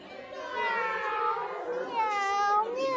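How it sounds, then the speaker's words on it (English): Several cats meow in overlapping, wavering cries, fairly close and loud, with a higher drawn-out yowl near the end. "Let's hear the cats."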